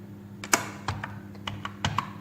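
Security code typed on a computer keyboard, a series of close, crisp key clicks in an irregular rhythm, some strokes sharper than others, with no speech over them.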